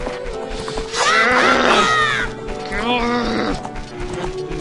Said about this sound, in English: Get over here, you horse.